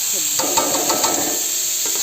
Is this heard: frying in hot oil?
yes